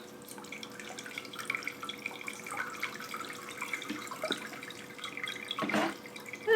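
Water trickles and drips steadily onto the well-draining soil of a potted rubber tree houseplant, a soft continuous pour with a brief louder splash near the end.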